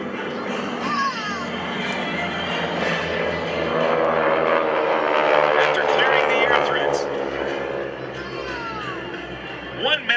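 A GEICO Skytypers vintage trainer aircraft flies over an air show, its propeller engine droning loud and steady with a slowly shifting pitch as it passes, under narration and crowd noise.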